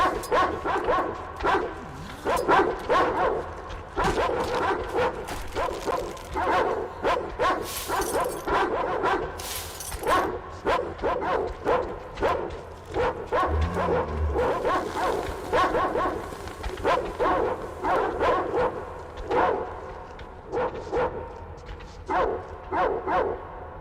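Dog barking in the video game Metro Exodus, repeated short yips and bow-wow barks in an irregular string over steady game ambience, fairly close and loud throughout.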